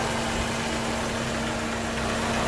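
A 2001 Fiat Siena idles with a steady, smooth, even engine rumble and a constant low hum, heard close and alone with no talking.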